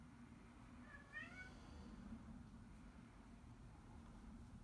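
A cat meows once, a short rising-and-falling call, fairly faint against a steady low background hum.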